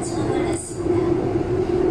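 A Seoul subway train running, a loud, steady rumble with a strong droning tone and rattling underneath, heard continuously up close for about two seconds.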